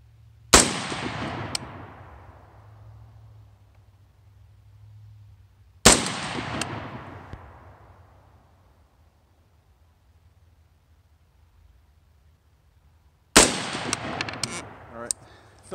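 Three loud, sharp rifle shots spaced several seconds apart at an outdoor range while zeroing a Holosun red dot sight, each with a long echoing decay and no talking in between.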